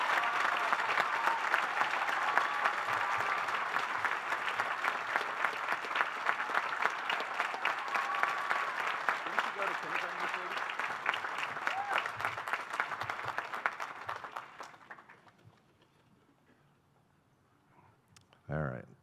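Sustained applause from a commencement audience greets a memorial award recipient, loud and steady for about fourteen seconds before fading to near silence, with a brief voice at the very end.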